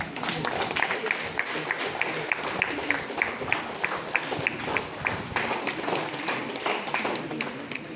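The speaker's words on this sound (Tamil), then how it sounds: "உங்களுடைய கரகோஷம்." An audience at an award ceremony honouring students in Tamil applauds, mixed clapping with distinct rhythmic claps from nearby hands repeating steadily over the crowd.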